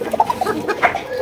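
Indian pigeons of the Kokah breed call nearby with a quick series of short, rounded coos that overlap in a lively burst.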